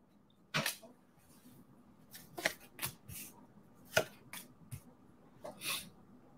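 Cards shuffled and dealt out for a reading: quiet, sharp riffling and slapping bursts, spaced irregularly with soft pauses between them, no talking.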